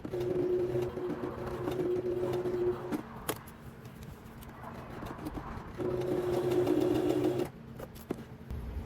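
A sewing machine stitches a pajama collar for a Butterick 6296 pajama set, turned slowly by the hand dial with a longer stitch length, giving a steady close mechanical whir in two runs separated by a quieter pause.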